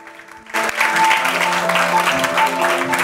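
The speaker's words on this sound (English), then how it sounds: "we are going to welcome all of them with a big applause." A hall audience bursts into applause to welcome new film directors at the San Sebastián festival's TCM meetings, dense clapping rising abruptly and holding steady over a faint background hum.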